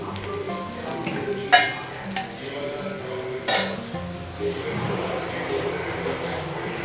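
Dosa batter sizzles in sesame oil on an iron griddle in a home kitchen, a steady frying hiss broken by a couple of sharp metallic clinks of a utensil, with faint talk in the background.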